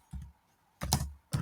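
A computer keyboard is typed on in three quick bursts of close, crisp key clicks separated by short pauses, with no speech over them.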